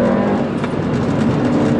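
A modified Mini's engine revving hard at full throttle from around 4,000 RPM into a corner, a loud, steady, close-up drone that holds for the whole short moment.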